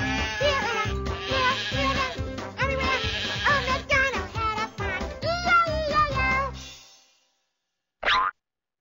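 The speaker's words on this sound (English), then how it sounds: "Click when you hear the sheep." A sheep bleat in a Sesame Street animal-sound video game, heard once near the end as a short, loud cry after a long stretch of bouncy game music with boing effects.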